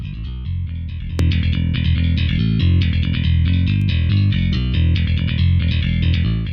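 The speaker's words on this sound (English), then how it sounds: "The bass guitar sounds like this." A bass guitar from a VST plugin in LMMS plays a steady run of low notes, loud and continuous for several seconds, with no voices.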